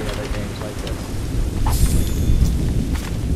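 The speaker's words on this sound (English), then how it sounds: "This storm's getting worse." A thunderstorm in the video game Assassin's Creed Rogue, with loud, close rumbling thunder that swells over steady rain and crackling bursts, while voices murmur faintly underneath.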